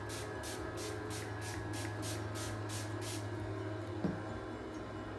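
Heritage Store Rose Petals rose water is misted from a pump spray bottle in about nine quick, evenly spaced soft hissing spritzes, close and fairly quiet over a faint background hum.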